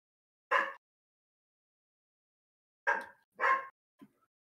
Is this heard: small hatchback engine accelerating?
no